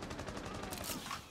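Rapid gunfire in the tactical shooter Rainbow Six Siege, a dense burst of close, loud shots lasting just over a second.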